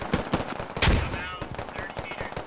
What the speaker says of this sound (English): Razor's shooting at someone.